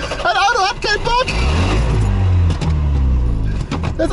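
A Trabant's engine cranks with the throttle open and fails to catch, a rough mechanical churning that rises and falls close by while people talk over it.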